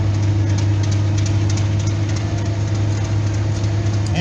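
A 17 horsepower John Deere lawn and garden tractor engine idles at a two cylinder show parade, giving a loud, steady low rumble with an even pulse and no talk.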